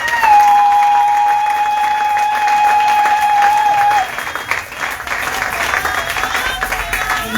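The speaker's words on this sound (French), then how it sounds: "Est-ce qu'on peut acclamer très fort pour le Seigneur Jésus?" A church congregation applauds and cheers loudly and continuously, a dense wash of clapping with shouts and a sustained high whistle or cry at the start that fades out around the midpoint.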